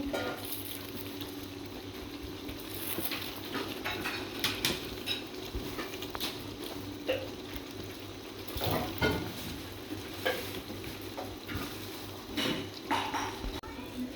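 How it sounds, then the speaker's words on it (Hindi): Hyderabadi chicken masala frying in a pan, a steady close sizzle and bubbling with occasional stirring scrapes and clinks, under a faint voice. "अब हम इसको अच्छी तरह भून लेंगे।"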